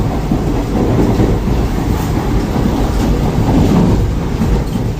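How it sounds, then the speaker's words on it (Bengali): Vande Bharat Sleeper Express train cruising at about 110 km/h, heard from inside as a loud, steady low rumble and rushing roar with faint rhythmic rail clatter. "ও ভাই, আমাদের ট্রেন এখন ফ্ল্যাট 110 স্পিডে এগোচ্ছে।"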